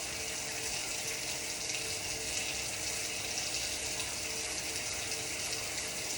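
Tap water runs steadily into a sink during hand washing for sterile gowning prep in a vet tech setting, a constant close hiss with no break and no talking.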